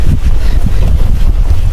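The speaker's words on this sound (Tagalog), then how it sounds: "Pero may hangin pa rin at malamig-lamig pa rin." Strong outdoor wind in cold Greenland buffets the microphone with a constant low roar and gusty rumble, loud and steady throughout with no voices.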